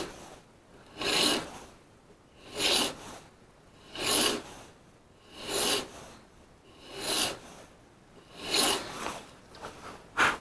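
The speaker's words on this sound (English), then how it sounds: "So when I come through the fine file, I can fix the corner, essentially." A fine file rasps on the notch of an old piano key being rebuilt. Seven steady, evenly spaced strokes sound close and alone, each a short scraping swell, with no talking.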